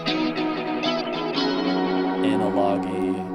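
A chorus-heavy, analog-style delayed electric guitar sits in a studio mix, its warm repeating notes smeared by echo and modulation over a dense, continuous backing for a few seconds, with no talk.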